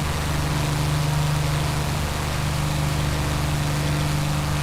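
A Spitfire's piston engine drones loudly and steadily during a climb in a flight simulator, a continuous low-pitched hum with no break.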